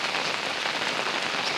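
Steady heavy rain pours through the Sahyadri forest, a dense continuous hiss of drops striking leaves and ground, close and loud with no voices.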